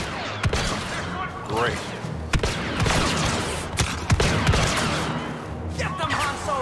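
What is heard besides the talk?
blaster gunfire in Star Wars Battlefront 2 video game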